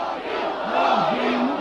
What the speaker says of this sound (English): The crowds chanted for the visiting Gorbachev, not for their own die-hard leaders.